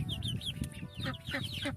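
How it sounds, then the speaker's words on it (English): Young feathered chicks on a farm cluck and cheep in quick, overlapping bursts, close and moderately soft, with no talk. "All of my baby chicks are pretty much feathered."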